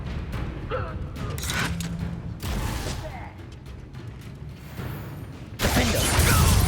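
The Confringo blasting spell fires in Hogwarts Legacy with bursts of booming, crackling combat effects. A sharp, loud blast near the end sits among chaotic game noise, and voices talk throughout.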